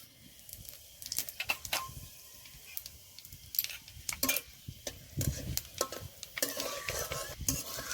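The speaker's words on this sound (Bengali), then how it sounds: "পাঁচফোড়নটা ভালো করে ভেজে নিতে হবে" Panch phoron whole spices and dried red chillies frying in hot oil in a kadai, with a faint background sizzle punctuated by frequent sharp clinks and taps of a spoon stirring against the pan, close and moderately loud.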